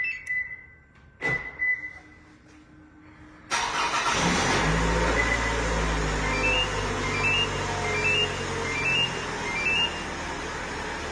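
A car engine starts by remote start from an aftermarket alarm and tracker system: brief beeps and clicks first, then the engine catches at about three and a half seconds and settles into a steady, close idle with repeated chirps over it.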